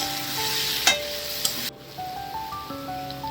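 Potatoes and chopped tomatoes sizzle in a pan, with a few sharp scrapes and clinks as a spoon stirs them, and the frying hiss stays close and steady throughout.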